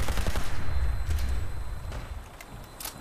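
Heavy gunfire in Fallout 4 aimed at a Vertibird aircraft, loud low-end rapid shots in a dense burst that gradually thins out, with a few sharper cracks near the end.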